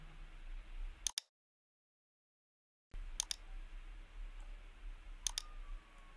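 A computer mouse clicks in quick double taps while working in 3ds Max, sharp close clicks in pairs, separated by quiet stretches and a short gap of silence.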